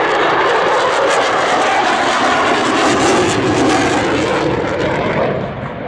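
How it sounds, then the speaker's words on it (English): Eurofighter Typhoon of the Italian Air Force performing a flying display at an air show, a loud, continuous jet roar that swells and holds close by, then eases off slightly at the end, with no talk. "As you can see, the Eurofighter is actually very agile"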